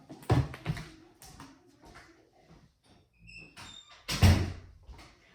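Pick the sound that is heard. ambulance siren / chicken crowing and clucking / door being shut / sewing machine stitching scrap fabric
door being shut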